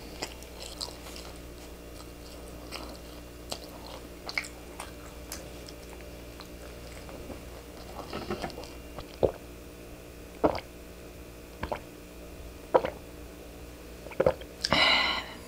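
Someone biting and chewing cream-filled salt bread, with soft intermittent crunchy bites and quiet mouth sounds close to the mic, growing a bit louder toward the end.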